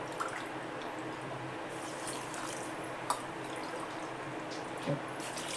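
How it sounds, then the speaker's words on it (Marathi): Water poured into a pressure cooker pot already holding sugar, for homemade mango drink syrup: a steady watery wash with a few small drips and splashes, fairly faint and close, with no talking. "आणि त्याच भांड्याने 2 भांडी पाणी घालते."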